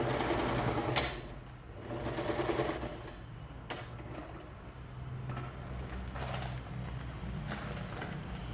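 Sewing machine stitching the sides of an upcycled cement bag made into a crossbody bag; a close, steady motor whir with a rapid needle rhythm that surges in short bursts, with no talking.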